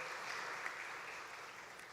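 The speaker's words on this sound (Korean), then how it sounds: "박수로 환영해 주시기" Quiet, distant applause from a church congregation welcoming a member during a Sunday service, a steady soft patter of clapping throughout with no voices.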